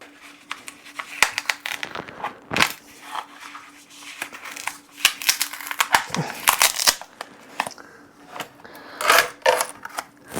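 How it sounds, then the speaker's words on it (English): A GreenOE battery's plastic casing is cut apart with a tool. The sound is a series of irregular, close crackling, snapping and scraping bursts, with quieter pauses between them. "I'm going to go ahead and just cut this completely apart to actually get the whole battery out."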